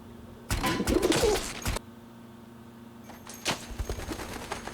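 Two bursts of fluttering wingbeats and rustling break out over a low steady hum, with soft bird sounds in between.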